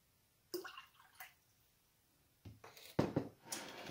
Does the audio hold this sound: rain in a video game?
no